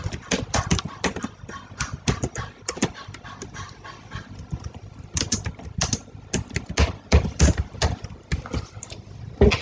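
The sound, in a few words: typing Python code on a computer keyboard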